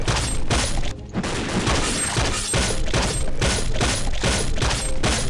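Rapid automatic gunfire from the video game Counter-Strike Nexon Zombies, loud and dense, rattling on almost without pause with a short break near the start and mechanical clatter mixed in; no talking.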